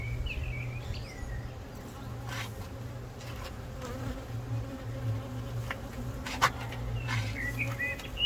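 Honey bees swarm around an opened hive colony, a dense, steady buzzing drone close by, with occasional bird chirps in the background.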